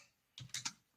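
A few quick keystrokes on a computer keyboard, three or four soft taps close together in a quiet room, faint and alone with no voices.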